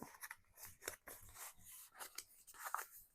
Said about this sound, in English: I'm just going to cut a little strip of that